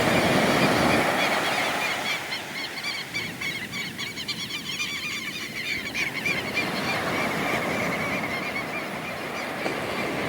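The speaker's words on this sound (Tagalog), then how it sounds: "may mga maiingay na mga ibon" A flock of noisy birds honking and squawking continuously, loud and close, with overlapping calls and no talking.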